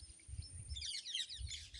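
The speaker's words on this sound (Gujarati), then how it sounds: "પોપટ શું જાય ઉડી ગયા" A flock of parrots, about fourteen birds, taking off from a village dam, with bursts of bright chirping and squawking calls over low rustling and wind.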